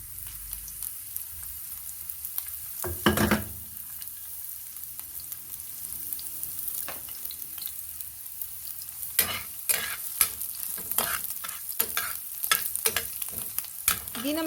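Onions frying in hot cooking oil in a favorite pan, a steady soft sizzle with intermittent scraping and stirring clatter, close and without talk.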